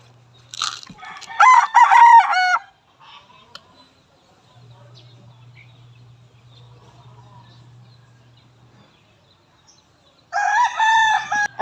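Backyard chickens kept on a Philippine farm, with a rooster crowing loudly twice, near and clear, separated by a quiet stretch of faint clucking and low background hum.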